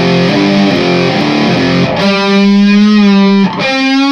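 Distorted electric guitar plays the fourth bar of a riff, a heavy sustained line with a sliding note change around the middle and a short break before a final held note, loud and alone.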